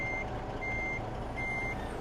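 A Kenworth K100 truck reversing in American Truck Simulator: three evenly spaced high reversing beeps sound over a constant low diesel engine rumble.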